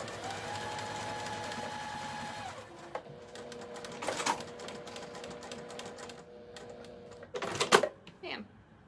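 A sewing machine runs steadily for about two seconds, stitching fabric under the presser foot. Then it stops, leaving scattered clicks, rustles and a brief louder clatter of handling.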